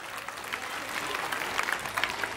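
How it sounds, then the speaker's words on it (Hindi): Audience applause at a school annual gathering honouring meritorious students, a steady dense patter of many hands clapping throughout, moderately loud and without speech. "इनका सत्कार आपकी तरफ से तालियों से हुए तो भी बहुत बढ़िया"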